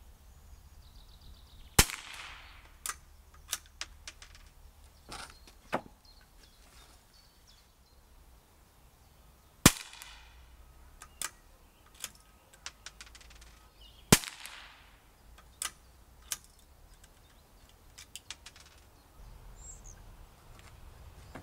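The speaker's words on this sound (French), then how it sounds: "j'ai tiré 5 cartouches" .22 Super Extra Short Aguila cartridges fired outdoors, a series of sharp isolated cracks spaced irregularly several seconds apart, loud against a quiet background of faint birds and insects.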